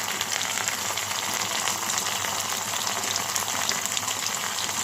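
Lightly fried onion sizzling in a pan with ginger paste, cumin powder and other spices, a continuous dense hiss and crackle of hot oil throughout, close and fairly loud, with no talking.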